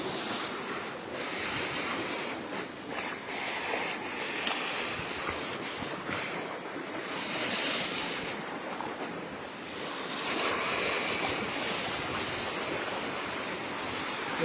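Floodwater pours steadily into a settlement in Dera Ghazi Khan during hill-torrent flooding, with a loud, unbroken rushing roar and wind buffeting the microphone throughout.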